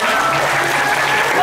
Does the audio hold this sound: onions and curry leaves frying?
no